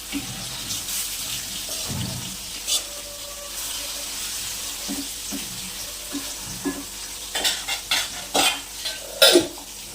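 Steady hiss of fish frying in hot oil runs throughout, with scattered clinks and scraping bursts toward the end; no voices.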